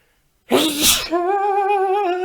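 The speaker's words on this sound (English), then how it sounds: "You know it's a good day when you get an epic sneeze." A loud, explosive sneeze up close, a sharp intake then a forceful burst, trailing into a sustained high-pitched voiced sound.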